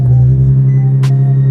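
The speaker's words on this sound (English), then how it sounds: "I just realized this is a cold start." A modified Nissan 370Z idles with a loud, steady low rumble and hum, up close and continuous, with a brief hiss partway through.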